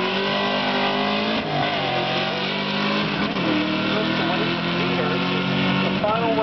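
A classic Ford Mustang with torque thrust wheels runs down a dragstrip in the stick car class, its engine a steady loud roar with shifts in pitch, while an announcer talks over it throughout.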